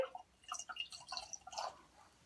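Vinegar and baking soda react in a cup, giving faint, scattered crackling pops and tiny bubbly ticks that fizz irregularly and quietly close by, with no voices.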